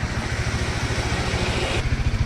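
Bajaj Dominar motorcycle engine idling or cruising on an early morning ride, a loud, close, rapid even thumping pulse held steady throughout.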